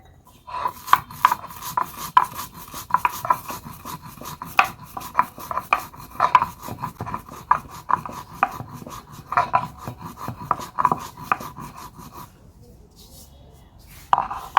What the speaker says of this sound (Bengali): ভাজা মশলাটা গুঁড়ো করে নেব।